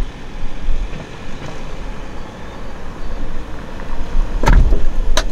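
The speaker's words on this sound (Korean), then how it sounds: "닫히는 소리나 어떤 진동은 좀 있는 편이네요" A low mechanical rumble and whir runs steadily as the power tailgate of a 2020 Kia Carnival (Sedona) 2.2 diesel closes, ending with a couple of sharp thuds and clunks as it shuts.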